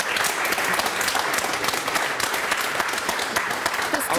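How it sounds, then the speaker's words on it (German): A studio audience at a televised debate on basic income breaks into sustained, dense applause, many hands clapping together at a strong, even level from start to finish. "Ich glaube, das war ein bedingungsloser Applaus für alle Teilnehmer."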